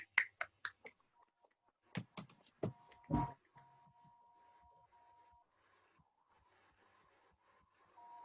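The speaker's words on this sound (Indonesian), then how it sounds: "kita kasih tepuk tangan buat kalian berdua" Students in an online class clap, heard as a scattered handful of sharp, faint claps over a thin call line in the first few seconds, followed by quiet electronic tones and low background hiss.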